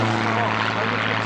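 An aerobatic airplane dives low past the crowd at an airshow in Durban, its engine a loud steady drone with strong harmonic tones throughout, while a voice talks over it.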